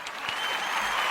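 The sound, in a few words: round of applause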